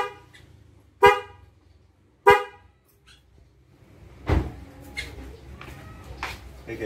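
A Denso snail horn fitted to a Toyota Terios blasts twice in short, loud, bright honks about a second apart, followed by quieter handling noises and a brief voice.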